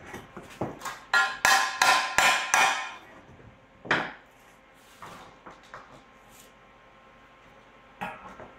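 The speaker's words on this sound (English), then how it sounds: "Couple of hammer smashies will do the trick." A quick run of sharp, ringing hammer blows close by, followed by a couple of isolated strikes and lighter taps with pauses between.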